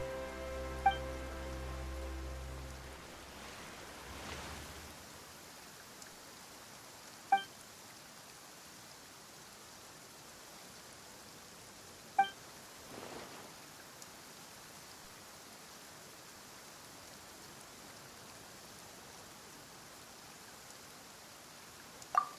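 Sudden rain falls in the Fontaine region of a video game: a steady, soft hiss of rainfall settles in after a few seconds and continues alone, with a few faint, sharp ticks scattered through it.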